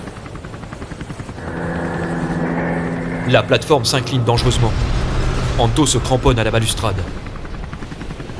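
Military helicopters circle over a collapsing platform in a French audio drama, a sustained rotor drone that swells and throbs beneath a narrator's voice.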